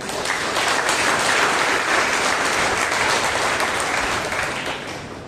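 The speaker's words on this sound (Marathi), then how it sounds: "प्रभूला टाळ्या वाजवूया." Congregation clapping for the Lord at a Monday prayer meeting, steady loud applause filling the room throughout and easing slightly at the end, no voices over it.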